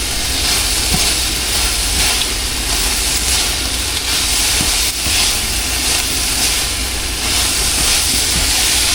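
Chicken cooking in a pan as its sauce reduces away, a loud, dense, steady sizzling hiss that fills the whole stretch with no pauses and no voices.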